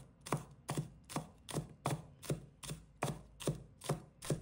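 A knife chops scallions into short pieces on a board, about eleven crisp, evenly spaced cuts landing in a steady rhythm, close and clear with nothing else heard.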